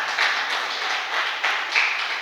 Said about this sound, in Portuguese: Aplauda o Senhor no nome de Jesus